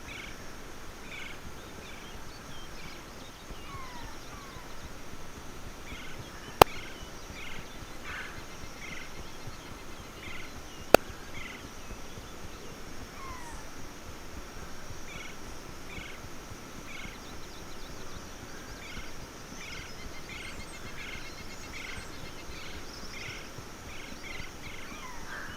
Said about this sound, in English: I'm not sure if you guys can hear some birds, but it's either the ambient sound